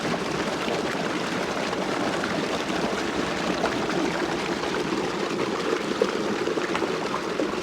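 Water flows steadily through a fish pond channel and pipe as a continuous broadband rush, even and moderately loud across the whole stretch with no talking.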